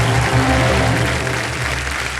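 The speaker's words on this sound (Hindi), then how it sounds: "जोरदार तालियां बजते हमारे प्रदर्शन के लिए" Studio audience applauding on the TV quiz show Kaun Banega Crorepati, with a broad steady wash of clapping over a low musical bed, no voices.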